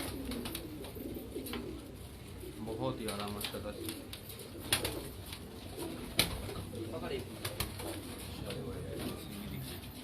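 English pigeons coo softly in a coop, low throaty burbles repeating under a man's nearby speech, with wing flutters and other scattered bird sounds.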